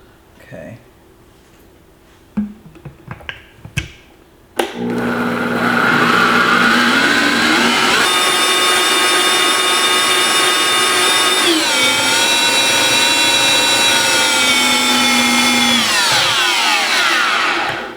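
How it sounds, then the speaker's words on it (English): After a few knocks and clatters, a blender blending ginger with water whirs up loudly and runs for over ten seconds, its motor pitch rising and dropping before winding down. "So we're gonna put it in the blender."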